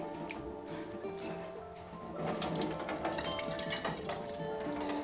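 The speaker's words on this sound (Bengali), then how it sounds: "আমরা হচ্ছে চিকেনগুলোকে ধুয়ে নিলাম" Frozen chicken pieces washed under a running kitchen tap, with steady water splashing into a sink that grows louder and busier halfway through, along with wet handling noises.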